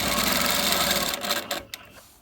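A longarm quilting machine stitches quilt binding at a mitered corner, a steady fast mechanical whir and clatter that stops about halfway, leaving a few faint clicks.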